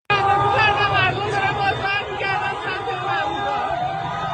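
Protesters in a Tehran street at night under martial law make a dense, loud babble of many voices shouting together close by, with a chant-like rise and fall throughout.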